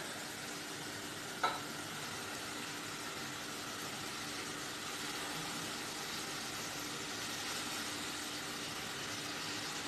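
Chopped chard is added to a pan of fried onion and garlic for a quiche filling, making a steady, fairly faint sizzle for the whole stretch, with one small clink near the start.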